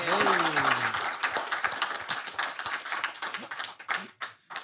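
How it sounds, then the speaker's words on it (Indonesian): An audience at an Indonesian televised talk show claps to welcome political commentator Rocky Gerung, the applause loud at first and thinning into scattered claps, with a brief tone and a voice near the start. "Tepuk tangan buat Bung Rocky Gerung."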